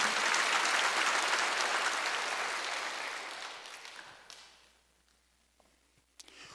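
Congregation clapping together during a church worship service, a dense steady roar of many hands that gradually fades out into near silence, with a few scattered claps at the end.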